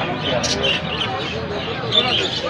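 Small birds chirp and tweet in short bursts at a busy weekly pigeon market in Mirzapur, their calls rising over a continuous murmur of nearby voices.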